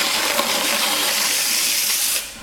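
A continuous wet, hissing scrape as a pottery wheel head is wiped down with water, steady for a couple of seconds and then easing off.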